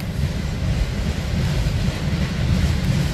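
A freight train of flatcars and a covered hopper rolls past close by in Berea, Ohio, a loud, constant low rumble with faint rhythmic clatter and no talking.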